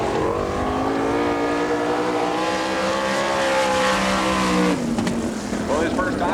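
A sprint car at a 1998 All Star Circuit of Champions time-trial qualifying run in Woodstock, Georgia, roars loudly down the back straight with a steady high engine note that shifts pitch near the end, heard alone with no talk.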